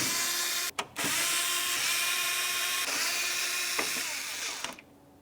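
A power tool drives out the grille mounting screws on a 2011-2018 Volkswagen Jetta, a high, steady whine close up, briefly interrupted once near the start, then winding down at the end.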